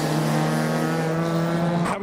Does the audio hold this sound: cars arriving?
yes